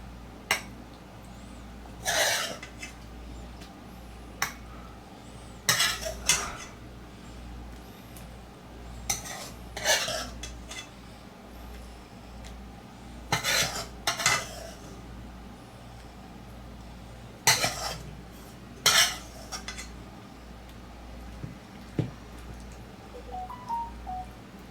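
Meat sauce spread across the top of a beef lasagna with a utensil, heard as irregular clinks and scrapes of metal against a pan, in short bursts separated by quieter gaps, close up with no talking.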